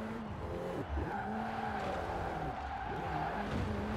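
A car in a driving video game drifts and skids, tires squealing in long wavering tones under a continuous engine drone, with a sharp dip and recovery as the slide shifts.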